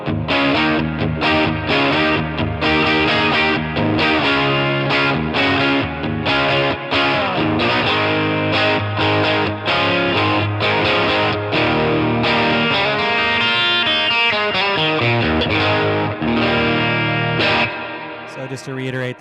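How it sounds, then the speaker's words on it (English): An electric guitar runs through a Line 6 Catalyst amp on its boutique channel with plate reverb, playing loud, driven, dense chords and riffs that fade out at the end, with a voice talking beneath. "that's the boutique channel with the plate reverb"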